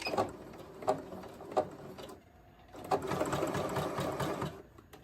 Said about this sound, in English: parts I can do on the sewing machine for making Wolf-Chan, Bang-Chan's clothes.